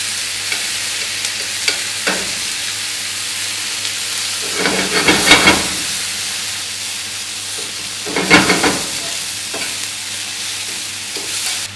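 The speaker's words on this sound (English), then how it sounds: "we can just get the juices out of the" Cherry tomatoes and lamb juices sizzle in a pan with a steady frying hiss, rising into two louder bursts of crackling and stirring midway and near the end, no voices.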